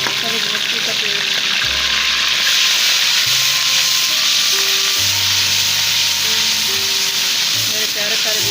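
Onion and green chili paste sizzles in hot oil alongside fried garlic-ginger paste for a mixed vegetable pulao, a steady bright frying hiss with low hum bursts and a voice speaking over it.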